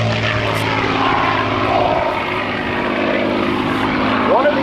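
A propeller warbird with a liquid-cooled engine flying at a naval air station airshow, a loud continuous engine drone throughout with a steady throb, close and dominant.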